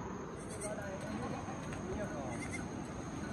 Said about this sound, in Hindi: जिसका बेबी हुआ था वो बकरी आ रही है और उसका बेबी आ रहा है